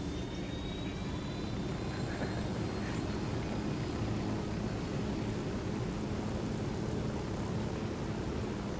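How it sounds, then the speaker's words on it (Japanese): A helicopter flies in the video game Ghost Recon Wildlands as a steady, even whooshing drone that holds at low volume throughout, with no voices over it. "うわあ、でも怪しいヘリ飛んでるな。"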